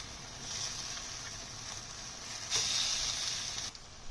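Fried almonds tipped into carrot halwa sizzling in a pan, a steady frying hiss throughout that swells louder for a moment partway through, with no talking.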